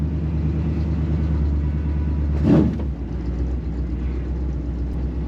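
A 1939 Chevy coupe custom car's engine runs as a steady low rumble, swelling briefly into a louder rev midway before settling back to an even idle.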